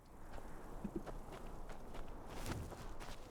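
In the Skyrim video game, a horse walks at an easy pace, its hooves clopping softly in a few scattered steps against a quiet background.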